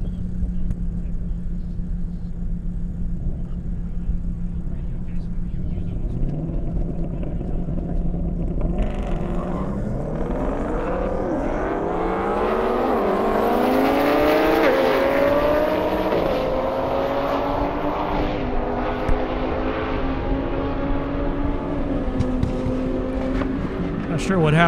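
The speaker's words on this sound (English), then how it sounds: "Got Scott Sheldon and Aldo in the Lamborghini Huracan next to him." Drag racing cars, including a Viper and a Lamborghini Huracan, accelerate hard down an airstrip at the Indy Airstrip Attack event, engine tones rising through the gears and loud throughout under continuous crowd and announcer noise.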